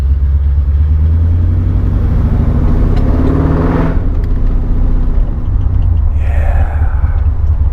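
A 1956 Chevy Bel Air running open headers revs hard on Beale Street off Route 66 in Kingman, Arizona: a loud, close, deep exhaust rumble that swells into a rising rev midway, then settles back to a heavy idle.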